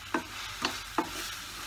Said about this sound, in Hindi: हल्की आंच पर थोड़ी देर और फ्राई करें सारे मसाले को